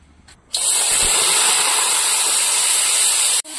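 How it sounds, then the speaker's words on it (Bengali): Vegetables drop into white oil in a hot wok, bursting into a loud, sustained sizzling hiss that holds steady for about three seconds before stopping suddenly. "প্রথমে সাদা তেলে সব সবজিগুলো ভেজে নেব"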